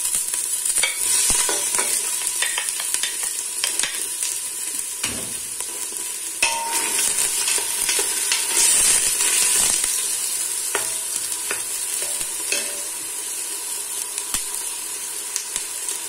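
Onions frying in a pan while being stirred, a steady close sizzle broken by scraping stirs and occasional light clinks, with no talking.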